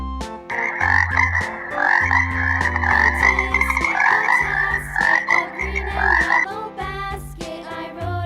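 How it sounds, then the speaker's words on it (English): A frog croaks loudly and close in a quick, regular series of rasping calls, running continuously for several seconds with no other sound. "Frog."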